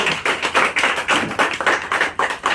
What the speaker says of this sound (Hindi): एक बार RCM के लिए ताली बजा दीजिए सब।